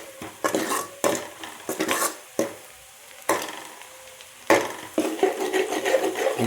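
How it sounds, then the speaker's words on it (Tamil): A spoon scraping and stirring ginger and garlic in a hot pan for fish curry, in repeated clattering strokes with a light sizzle underneath, close and moderately loud. "நல்லா அடி பிடிக்காத அளவுக்கு கிண்டிக்கிறோம்."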